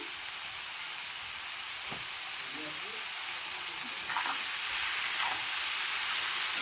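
Shredded cabbage, first salted and mashed, goes into a hot pan of Gobindobhog rice khichdi with mixed vegetables. A steady loud sizzle follows, with faint stirring scrapes and no talk.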